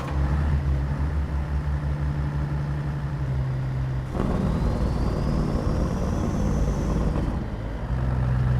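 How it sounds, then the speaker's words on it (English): A Caterpillar 3406E diesel truck engine hauling a heavy scraper, a continuous low droning rumble with a shift in tone midway and a rising whine above it, steady and close throughout. "Very interesting sounding engine on the 3406E."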